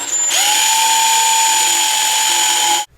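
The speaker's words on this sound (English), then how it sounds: "It has a drill bit mounted in a sleeve, and the sleeve is spring-loaded, so it slides back to reveal the bit." A power drill with a spring-loaded centering bit bores into steel, spinning up to a loud, steady high whine that holds evenly for a few seconds before cutting off abruptly.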